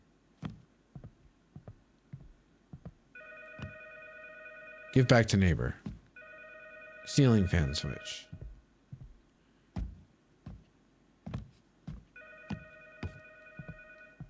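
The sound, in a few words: telephone ringing in a video game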